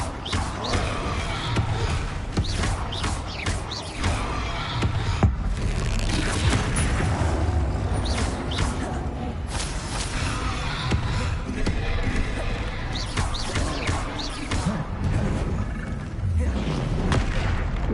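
Rapid spell blasts in Hogwarts Legacy burst and boom in quick succession, dense and loud throughout, while someone shouts spell names over the combat.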